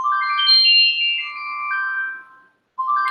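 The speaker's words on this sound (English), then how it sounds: "that's a very, very different ringtone" A phone ringtone plays loud and clean, a bright melodic electronic chime sweeping through several tones, pausing briefly, then starting again.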